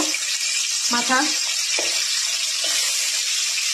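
Rohu (rui) fish head and fish pieces slid into hot oil in a kadai, giving a steady, loud sizzling hiss that runs throughout with brief spatters as the pieces go in.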